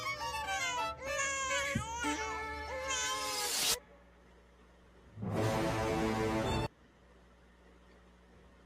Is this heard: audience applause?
no